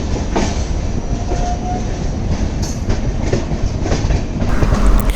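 The Tirumala Express from Vizag to Tirupati rumbles along steadily, heard from inside with continuous clickety-clack of wheels on rails and a brief squeal, loud and unbroken throughout.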